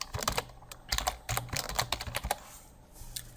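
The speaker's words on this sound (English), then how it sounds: "And the mic is pretty close to the keyboard, so I'm sorry for the noise." Fast typing on a computer keyboard picked up by a nearby microphone, with close, loud, irregular clacks and key thumps in quick bursts, easing off briefly toward the end.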